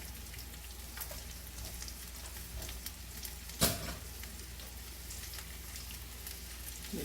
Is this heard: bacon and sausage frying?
yes